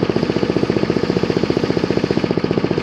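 A Billy Goat blower engine, fitted with a forward discharge elbow attachment, idles steadily with a fast, even, chugging pulse, close and loud, with no speech.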